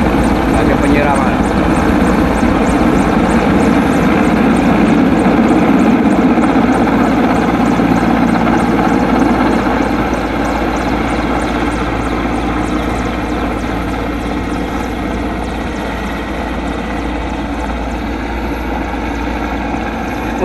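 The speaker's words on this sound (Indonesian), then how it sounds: "10 kilo helikopter nyiram ini pakai biaya siapa ini?" Loud, continuous helicopter rotor thrum and engine drone fill the air close by as it sprays water on a palm oil plantation fire, with people talking over it throughout.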